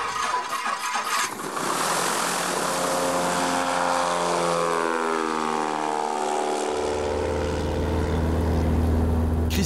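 A small propeller aeroplane engine drones steadily and loudly nearby, its pitch shifting and a deeper tone rising toward the end as power changes.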